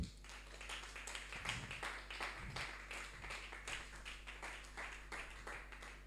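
A church congregation claps in praise of God's name, a fairly faint, rhythmic run of steady hand claps with a low hum underneath.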